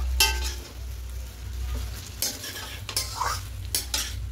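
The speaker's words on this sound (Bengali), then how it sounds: "এবার এখানে রাইসটা দিয়ে দেবো, খুব ভালো করে মিশিয়ে নেব।" A spoon stirs rice in a pan for vegetarian fried rice with cashews and raisins, giving soft scraping and clinking scrapes over a low steady hum, with a few louder metallic strokes.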